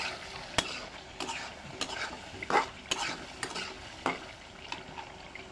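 Potatoes sautéed in a pan for a rohu fish curry, a low frying sizzle under a series of distinct scraping stirs and utensil knocks, close up and fairly quiet.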